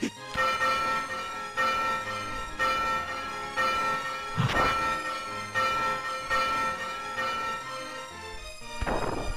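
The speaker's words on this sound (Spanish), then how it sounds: "tenemos que golpear esta campana" A bell struck in the video game Demon's Crest rings out with ringing tones over steady game music, with a couple of sharper hits standing out.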